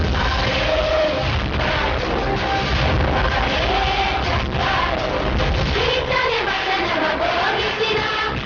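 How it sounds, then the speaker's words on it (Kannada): A large audience applauds and cheers at a dignitaries' ceremony in Koppal, Karnataka, a dense, steady wash of clapping and shouting that holds at full strength throughout. "ಹೆಮ್ಮೆಯಿಂದ ಚಪ್ಪಾಳೆ ಹೊಡಿಬೇಕು"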